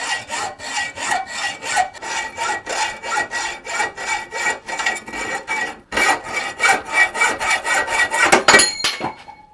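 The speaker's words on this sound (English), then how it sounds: "not only did I find a hacksaw, but I found a new blade for it. So we're going to take this off the old-fashioned way." A hand hacksaw with a new blade cuts through metal mounted on a wood lathe, giving loud, rhythmic rasping strokes, roughly two per second, steady throughout and briefly speeding up near the end, with no talking.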